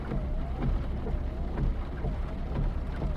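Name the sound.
heavy rain in video game Final Fantasy VII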